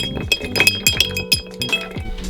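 Cocktail glasses with large ice cubes clink in a toast aboard a boat, giving several bright, close glassy taps and rattles in quick succession, without talk.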